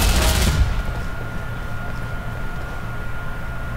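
Gunfire in the video game Ghost Recon: a loud burst of shots opens the clip, then dies into a dull, low background rumble.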